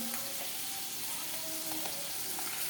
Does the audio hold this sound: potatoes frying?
yes